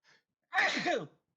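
A brief faint intake followed by a sharp, breathy sneeze burst, close and alone against silence.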